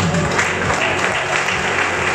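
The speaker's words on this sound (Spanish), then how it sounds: "Si alguien lo cree, aplauda." A church congregation applauds during a Spanish-language sermon, steady dense clapping filling the short stretch at moderate level with no break.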